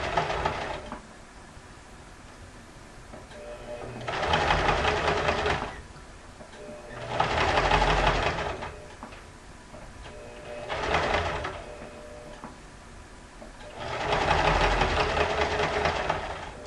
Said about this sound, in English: just kind of gradually sew into and then over the seam that already exists